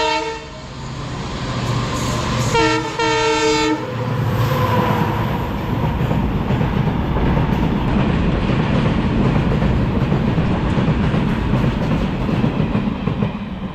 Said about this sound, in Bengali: এই ট্রেন আসছে, তোমাদের দেখাই। মালগাড়ি দিয়েছিল গো।